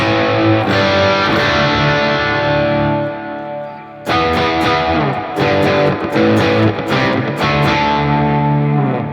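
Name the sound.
electric guitar through distortion pedal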